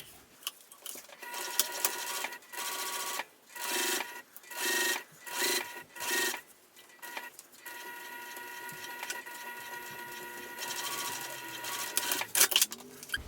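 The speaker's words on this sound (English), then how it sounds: "I'm going to top stitch, and I'll kind of give it a little bit of a pull" Sewing machine top stitching fabric in several short, steady bursts of whirring stitches separated by pauses, close and moderately loud, with light handling noise between runs.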